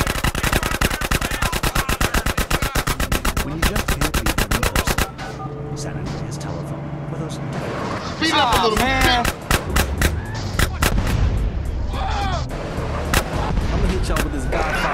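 Gunfire in the GTA San Andreas drive-thru mission: a loud, rapid stream of automatic shots for several seconds, then scattered shots and bursts amid engine noise and game effects.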